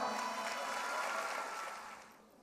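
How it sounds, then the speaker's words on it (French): An audience applauds at an association event, a soft, dense and distant wash of clapping that holds steady before gradually dying away. "Raja Jabour, applaudissez-la"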